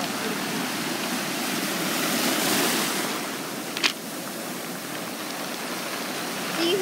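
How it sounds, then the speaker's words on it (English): Surf washing over a rocky beach at Carambola tide pools, St. Croix, US Virgin Islands, a steady rushing swell with a brief sharp clatter of rocks as water drains back. "when the water drains away, the sound of the rocks make"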